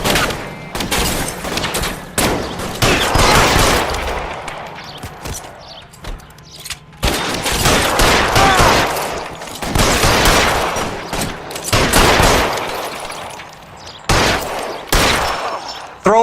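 Gunfire in LA Noire during a shootout at the Nicholson Electroplating plant, loud bursts of rapid shots and volleys broken by brief lulls, with occasional footsteps between them.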